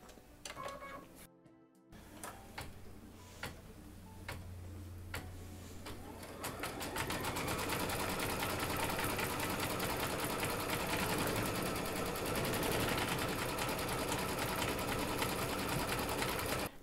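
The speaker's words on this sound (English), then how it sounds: "now it's just going to stitch these two fabrics together" An embroidery machine stitches two fabrics together in the hoop for bunny slippers. It starts with a few slow, spaced needle clicks, then settles into a fast, steady mechanical chatter up close, and no one talks.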